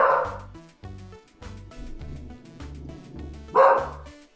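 A dog barks repeatedly at close range in an even rhythm, with a brief burst of other sound at the start and again near the end.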